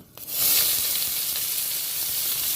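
Chopped onion, two medium onions, hits hot oil in a pan with a dried red chilli and two bay leaves, bursting into a loud, steady sizzle that swells within a moment and hisses on without pause.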